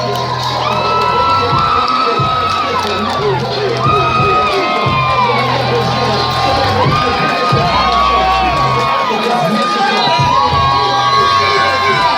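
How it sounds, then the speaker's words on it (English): A boxing crowd at a live event at Rosecroft Raceway cheers, whoops and shouts as a fighter makes his ring entrance, a loud, dense roar that continues throughout. "You hear the crowd Getting the entrance of Slick Justin Hurd coming to the ring."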